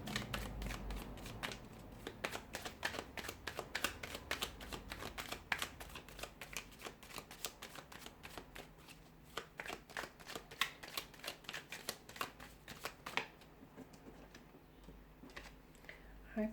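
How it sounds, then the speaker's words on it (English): A deck of tarot cards is shuffled by hand in quick, crisp riffles and flicks, close and fairly soft, with a rapid rhythm that continues for a stretch before pausing briefly. "we'll give the cards a shuffle and see what's coming in for you"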